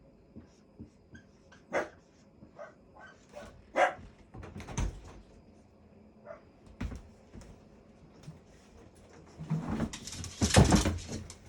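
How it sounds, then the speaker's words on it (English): Dogs bark in short scattered bursts at a moderate distance, with a louder flurry of barking and whimpering toward the end. "You may hear my dogs barking in the background."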